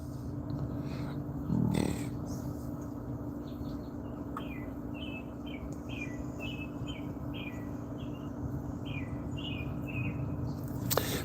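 Outdoors, a bird repeats short, bright chirps in a steady series close by, with earlier scattered calls, over a faint constant insect-like drone and low background hum.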